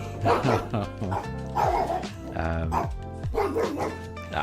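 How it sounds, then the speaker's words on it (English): A dog barks outside in repeated bursts, several deep woofs and yips spread through the clip, fairly loud, with some tonal background sound underneath. "Sorry, I can hear a dog barking outside, and Daruk heard the exact same thing."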